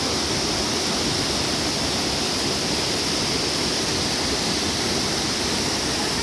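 Dua Unduk waterfall at Camp Dam Cidahu, heard as a steady, loud, broadband roar of rushing water that fills the whole clip without a break.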